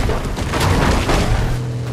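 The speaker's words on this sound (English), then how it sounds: "Oh, I'm watching a gunfire right now," Booming gunfire from a Fortnite Zero Build duo match, loud and continuous across a short burst with dense, heavy shots and no talking over it.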